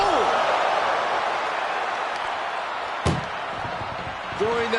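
A sharp, loud slam of an ambulance door rings out once in the middle, over a steady bed of crowd noise and faint talk, in a wrestling match in the video game WWE 2K25.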